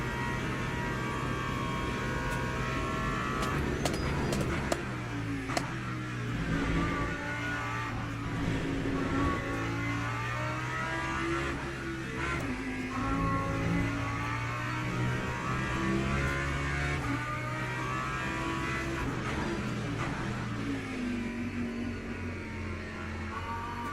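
A race car engine on the Spa circuit in the Le Mans Ultimate sim game drones steadily throughout, its pitch rising and falling with throttle and gear changes, with no talking.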